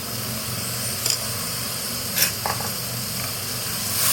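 Finely chopped tomatoes sizzle in a pan with onions, a steady close hiss broken by a few soft clinks and stirring bumps.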